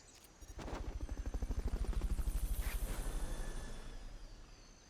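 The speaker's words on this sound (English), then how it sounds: "Fulton recovery to helicopter is complete." Helicopter in the video game Metal Gear Solid: Peace Walker during a Fulton recovery, its rotor thumping in a fast steady pulse that swells up close and then slowly fades, with no talk.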